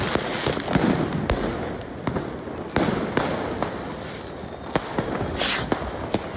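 Fireworks set off on and around a bus on a Berlin street at New Year, with repeated sharp bangs and pops at irregular intervals over a continuous crackling street din.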